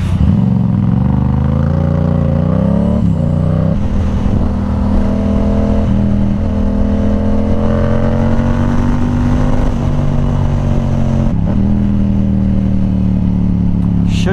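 Busy Northern Virginia road traffic surrounds a motorcycle on the move, its engine loud and close with shifting revs and gear changes over steady road rumble and passing vehicles.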